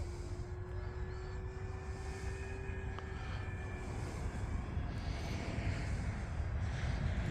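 An E-flite T-28 1.2m electric model airplane flies overhead at a club field, its motor giving a steady distant drone with faint pitch shifts as power changes, over a constant wind-like rumble.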